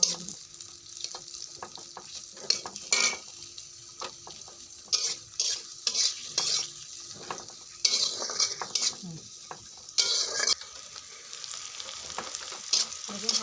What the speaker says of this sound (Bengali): দেখুন আমার পেঁয়াজটা ভাজা হয়ে গেল